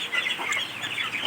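Chickens busy pecking at feed cluck in a close, dense jumble of short calls over a farmyard, brief and fairly loud, with no talking.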